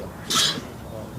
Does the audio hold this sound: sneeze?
yes